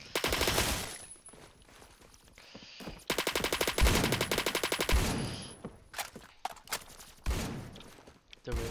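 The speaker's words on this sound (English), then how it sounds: "They're really shooting off the sides." Bursts of rapid automatic gunfire in the video game Phantom Forces, crackling volleys and single shots at varying distances on a busy battlefield, with short pauses between strings of fire.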